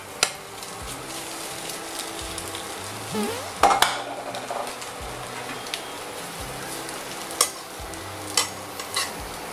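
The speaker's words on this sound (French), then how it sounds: "je suis en train de chauffer une autre poêle" An omelette with potato and lardons frying in a hot pan: a steady close sizzle with scraping and stirring, plus occasional clinks of a utensil against the pan, with no talking.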